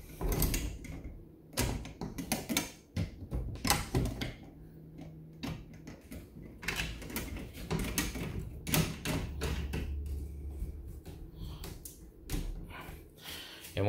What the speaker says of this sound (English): You can then bolt it down using one of these bolts.